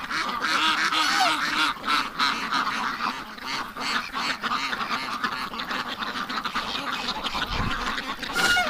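Ducks quack and honk continuously in a dense, loud flock outdoors on a frozen winter day, a steady chorus of overlapping calls with wind in the background.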